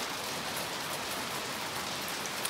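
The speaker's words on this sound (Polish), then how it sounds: "pada sobie deszczyk i to jeszcze z odrobinami gradu." Steady rain falling, mixed with a little hail, a constant hiss of drops pattering on surfaces with occasional sharper ticks, fairly faint and without talk.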